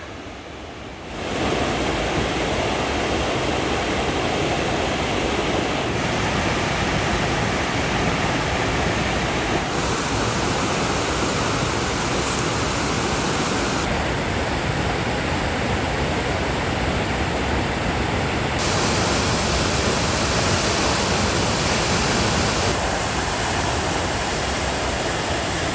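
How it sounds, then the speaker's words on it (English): Waterfall along the Virgin Falls trail, a loud, steady broadband roar of rushing water that fills the whole stretch without a break, shifting slightly in tone as the listener moves closer. "It sounds like a waterfall."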